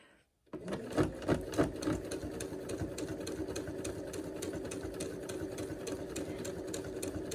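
A sewing machine stitches fabric for a face mask, starting after a short pause with a few quick bursts before settling into a steady, rapid mechanical chatter close by.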